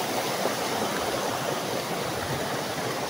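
Steady, full rushing water at Binadlan Falls in Binalbagan, Negros Occidental, a dense unbroken roar that holds even and loud throughout with no voices.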